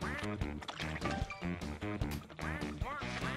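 Cartoonish duck quacks from the video game Paper Mario: Color Splash ring out in quick, bouncy succession, several nasal honks close together over a busy game soundtrack.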